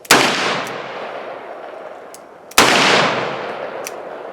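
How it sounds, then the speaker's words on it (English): Two loud pistol shots ring out about two and a half seconds apart during low-light shooting, each a sharp crack followed by a long echoing decay. "now I can see my target, and I'm making a shot."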